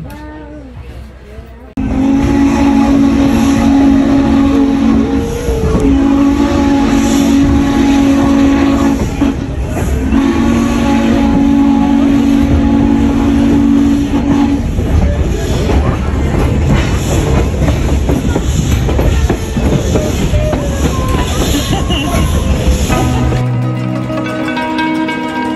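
A train runs on its rails during a ride through rural Pennsylvania, with a loud, continuous rumble and rolling rattle and a steady tonal whine over it, heard from onboard for about twenty seconds before it quiets.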